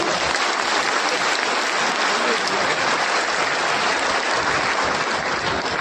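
An audience claps loudly and steadily throughout, a dense continuous applause from a large crowd at an international festival celebrating Emperor Ashoka's birth anniversary.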